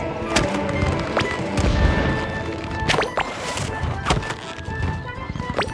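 Pirate ship cannons firing in the SpongeBob Cosmic Shake video game, several sharp booming blasts and crashes at irregular intervals over a busy background of game noise.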